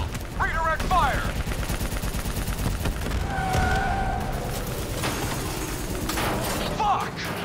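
Automatic gunfire and explosions in a Call of Duty Black Ops 3 battle, loud and continuous throughout with a siren-like wail and tonal effects in the background and brief shouted voices near the start and end.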